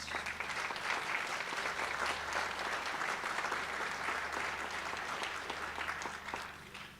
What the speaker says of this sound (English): I think they deserve a hand of applause